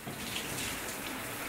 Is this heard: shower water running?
yes